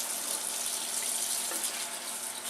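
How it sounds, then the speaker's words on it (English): Warm water runs from a kitchen tap over a block of frozen spinach, a steady close hiss of flowing water lasting throughout with no talk. "I'm going to run it under warm water to get rid of some of my ice crystals"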